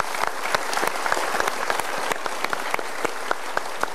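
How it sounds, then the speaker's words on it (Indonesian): A studio audience at a Mario Teguh Golden Ways talk show gives steady applause, a dense, even wash of many hands clapping with scattered sharper claps standing out, continuous and unaccompanied by speech. "Kita berikan tepuk tangan dulu"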